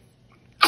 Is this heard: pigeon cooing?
no